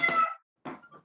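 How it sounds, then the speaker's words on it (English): A pet cat meows twice nearby, a longer meow followed by a shorter, broken one, with a clear pause between them and no voices. "My cat's meowing"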